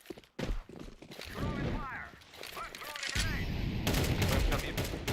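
AK rifle fire in a shooter video game, with scattered shots and short bursts under excited talking from players.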